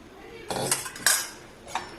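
Sabja seeds tipped into palm fruit (nungu) milk in a vessel, giving a few sharp metallic clinks and taps of spoon against dish, spaced over about two seconds, close and moderately loud with no talking.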